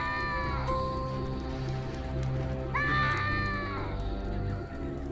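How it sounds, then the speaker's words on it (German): A character screaming in the video game American McGee's Alice: two drawn-out, wavering high cries, one at the start and one midway, over a steady low background drone. "Hör auf zu schreien!"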